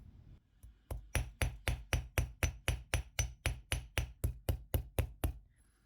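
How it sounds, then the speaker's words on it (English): A ball peen hammer taps copper wire in a fast, steady rhythm, around twenty crisp blows in a row, close and fairly loud, with no talking. "So I'm going to use my ball peen hammer to texture it."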